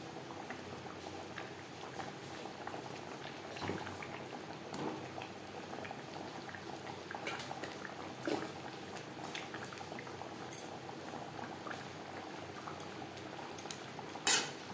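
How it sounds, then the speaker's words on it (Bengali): Bhola fish curry gravy with potato bubbling steadily in a pot, a soft continuous simmer with faint pops and occasional light clinks of a utensil, fairly quiet and without any talk. "গ্রেভি ফুটে ওঠা পর্যন্ত অপেক্ষা করব"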